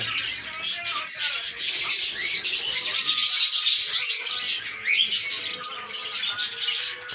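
Many caged birds at a bird market in Sahiwal chirp, tweet and squawk in a dense, continuous chorus close by.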